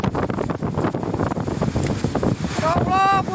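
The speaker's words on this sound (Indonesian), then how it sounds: "Puting beliung menerjang permukiman warga di Sumedang, Jawa Barat." A tornado tears through a residential neighbourhood in Sumedang, West Java, its loud roaring wind buffeting the microphone continuously, with shouting voices rising near the end.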